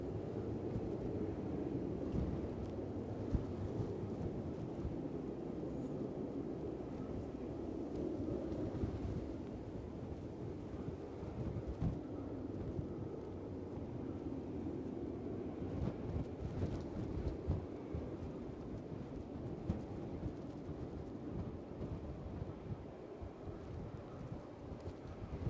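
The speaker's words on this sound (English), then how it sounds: "Wind's about the same, car spotter from Sweden, I think. Every now and again it gusts up a little bit stronger." Strong gusty wind at Edinburgh airport buffets the microphone as a dense, continuous rumbling roar that swells and eases in gusts for the whole span, with no talk.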